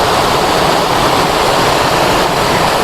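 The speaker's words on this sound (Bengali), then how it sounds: "উশ্রী নদীর ঝর্ণাটা" The Usri river waterfall near Dhanbad in Jharkhand pours over rocks in a loud, steady, unbroken roar of rushing water, close by and with no voices.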